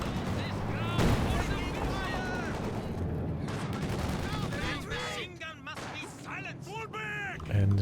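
DShK heavy machine gun fire in Company of Heroes 2, dense bursts and explosions of battle running continuously beneath an excited commentator's voice.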